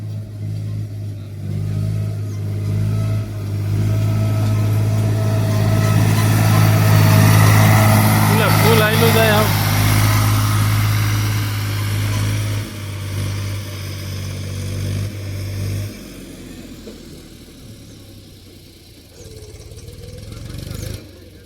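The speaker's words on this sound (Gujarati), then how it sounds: "તો હવે બીજું ટ્રેક્ટર આવે છે ભરવા" A tractor engine runs steadily at a sugarcane cutting and loading site, making a loud, close, continuous low drone that fades slightly toward the end, with faint voices in the background.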